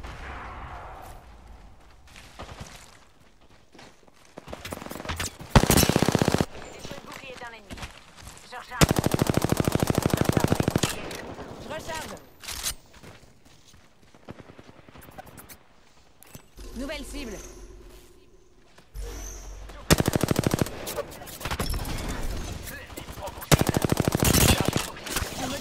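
Aircraft guns firing in a video game: several loud, rapid machine-gun bursts of a second or two each, separated by quieter engine drone and game noise, with someone talking in French between the bursts.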